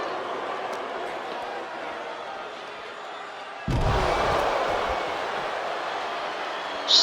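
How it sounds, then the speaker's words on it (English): A wrestler's head is slammed down onto thinly padded concrete during a match, one sudden heavy thud partway through, surrounded by crowd noise and commentary. "Slams Andy's head down on the concrete."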